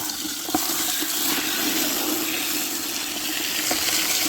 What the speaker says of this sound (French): je me fais éclabousser depuis tout à l'heure